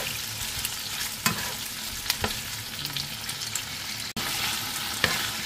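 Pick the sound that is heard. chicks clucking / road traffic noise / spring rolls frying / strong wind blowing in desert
spring rolls frying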